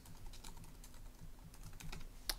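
Quiet typing on a computer keyboard while editing a Linux fstab file, a fast irregular run of soft key clicks close by with one sharper tap near the end, and no voices.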